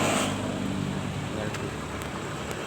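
Road traffic after a bus and truck collision in the Bicol area, a rumbling stream of passing vehicles with low engine drone and hiss, voices talking over it.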